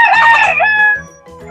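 A rooster crows loudly and clearly, one long cock-a-doodle-doo that fades out, followed by quiet clucking underneath.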